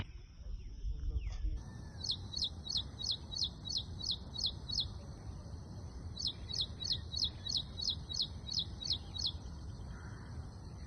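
Two runs of rapid, high, evenly spaced bird chirps ring out over a steady low outdoor rumble, fairly distant and clear.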